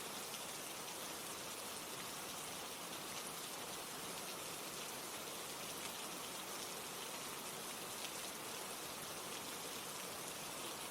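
Steady rain falls continuously with an even, soft hiss of drops on surfaces, unbroken and fairly quiet, with no voices.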